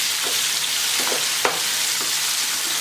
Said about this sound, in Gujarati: એકદમ ધીમી આંચે આપણે સાંતળવાની છે